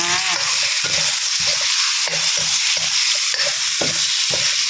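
Pieces of snakehead fish stir-fried with pounded chili paste in a pan, loud close spatula scrapes and knocks repeating in a regular rhythm over a constant sizzle.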